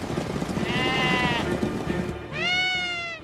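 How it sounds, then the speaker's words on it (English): A guanaco herd leader in the high Andes of Peru gives two shrill, quavering alarm neighs in quick succession, clear and close over a rough outdoor background. "With a shrill cry known as a neigh, the leader activates a biological siren that puts every member of the herd on immediate alert"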